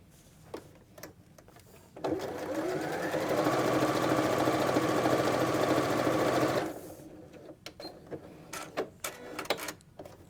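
A sewing machine pieces a quilt block in one steady run of fast, even stitching that lasts several seconds, with quiet handling clicks before and after.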